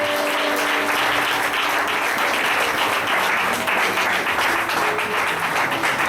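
Church congregation applauding and cheering Jesus Christ during a French-language sermon on spiritual maturity, a loud, dense, sustained roar of clapping with a faint tonal hum beneath, no speech on top.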